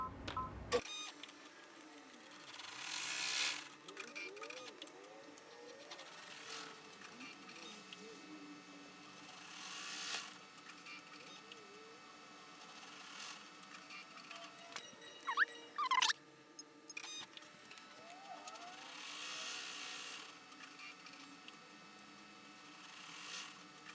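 An embroidery machine stitches an in-the-hoop bear birthday outfit design, a faint, steady mechanical whir with repeated rhythmic pulses and small clicks running throughout, alone with no talk.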